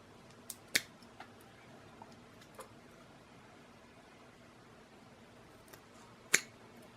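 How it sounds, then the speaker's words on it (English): Sharp scissors snipping through foam while tying a frog fly, a few brief, crisp clicks at the start and one louder snip near the end, close and isolated over quiet room tone. "I'll use my scissors and just cut both sides just a little"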